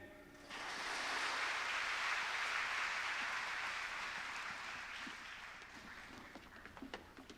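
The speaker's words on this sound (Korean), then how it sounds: "우리 하나님께 영광의 박수 올려드리겠습니다." A congregation at a Korean church's special autumn dawn revival service breaks into applause. The clapping swells quickly to a loud, dense roar, then tapers off. A few scattered claps and murmurs are left at the end.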